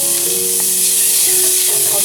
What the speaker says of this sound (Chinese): 炒出香味儿